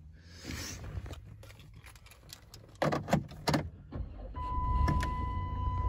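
A 2008 Dodge Grand Caravan SXT starts up after some clicks and rattles inside the cabin. A few sharp cranking bursts lead into a steady low idle hum, quiet and close, with a faint electronic tone over it.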